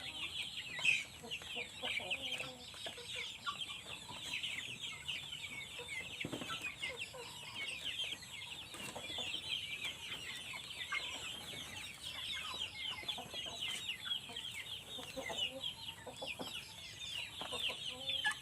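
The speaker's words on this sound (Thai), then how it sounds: "ไก่ดำค่ะ" Black chickens cluck and murmur in a rural garden setting, soft continuous clucking with occasional louder calls, moderately close and without speech.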